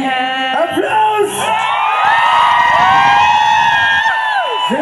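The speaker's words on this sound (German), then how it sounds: "Applaus!" A concert crowd at a Pietro Lombardi show in Linz in 2023 cheers loudly, with whoops and shouts rising over sustained singing or musical tones and a steady roar throughout.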